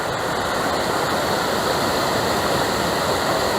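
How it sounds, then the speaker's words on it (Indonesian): A waterfall feeds a small stream below a camping spot at Curug Cilamaya, a continuous, dense rush of flowing water close by and unbroken throughout. "Bawahnya tuh langsung sungai kecil yang aliran air terjunnya itu"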